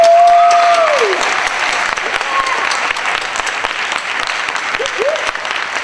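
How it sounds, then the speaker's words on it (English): Audience applause for students at a National Technical Honor Society induction ceremony, a steady dense wash of clapping across the whole stretch, with a brief voice or whistle-like tone near the start. "Let's give our students a round of applause."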